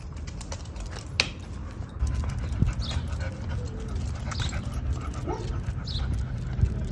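A dog out on a morning walk whimpers in a few thin, high whines over constant outdoor noise and scuffing footsteps, fairly close.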